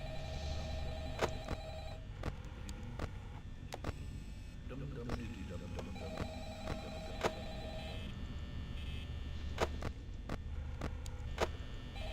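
A telephone rings repeatedly in the Five Nights at Freddy's video game, steady ring bursts under game ambience and intermittent clicks throughout.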